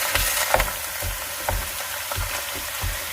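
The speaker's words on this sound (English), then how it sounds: "I'm adding a little bit of oil, cooking oil. And I'm going in with my turkey meat." Turkey meat frying in cooking oil in a pot for chili, a steady loud sizzle broken by rhythmic scraping and stirring strokes as the meat is broken apart, with no voices.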